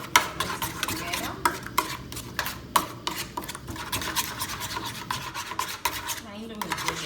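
Noodles with black pepper and oil being stirred and mixed in a pan, giving a continuous scraping, clinking stir of utensil against metal with faint sizzle, close and steady with regular louder scrapes.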